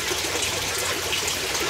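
Water trickles and splashes steadily in a small backyard aquaponics setup with a pump circulating from the bottom tank up to the filter, a constant close bubbling burble with no pauses.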